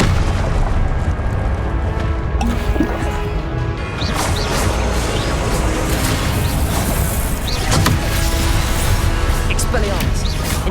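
Confringo blasting spells fired in the Hogwarts Legacy video game, a continuous stretch of loud booming explosions and crashing impacts under a steady game din, with spell incantations shouted over the blasts.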